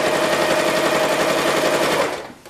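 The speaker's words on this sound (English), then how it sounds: "And there we see the machine doing 16 layers of calico." A Decor Pro Deluxe Mk2 sewing machine stitches through 16 layers of calico with a fast, even, rattling hum that stays loud and steady for two seconds before winding down.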